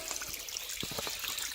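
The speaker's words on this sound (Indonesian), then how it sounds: "ini jalur terakhir tuh sungai guys. Cuman sungainya nggak yang gede ya airnya." A small mountain stream on the Mount Takao hiking trail in Japan, its shallow water trickling and gurgling softly in brief bubbling bursts, faint and close by.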